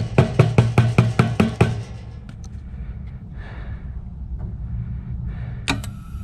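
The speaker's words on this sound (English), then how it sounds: "The igniter kicked for a second. Gas come on, the igniter quit." Attwood RV gas water heater igniter snapping in a rapid burst of about seven sharp clicks, then a low steady rumble as the gas burner lights, with a few faint knocks and one last click near the end.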